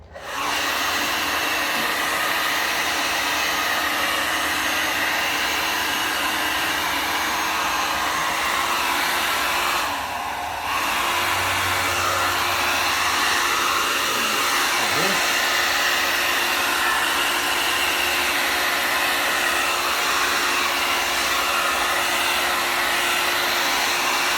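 A hair dryer blows continuously at close range, a loud, steady whooshing hum that barely changes for the whole stretch.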